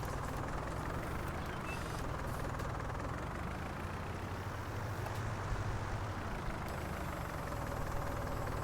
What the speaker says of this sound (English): Bring the tractor around.